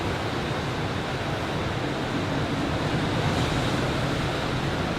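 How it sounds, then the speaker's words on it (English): Ocean waves wash steadily onto a beach in a continuous, broad roar of surf, with some wind noise on the microphone and no talking. "The waves sound pretty good in the background."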